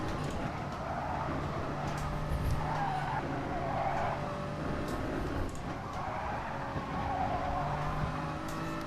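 A race car in GT Sport on the Nordschleife roars steadily at full throttle, with tires skidding and squealing through corners, loud and continuous throughout.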